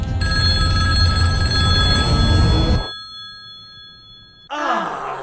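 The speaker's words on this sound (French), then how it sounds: "le téléphone va sonner dans 3" A telephone bell rings loudly and steadily for nearly three seconds, then stops abruptly, leaving near silence before a short rustle or breath-like sound at the end.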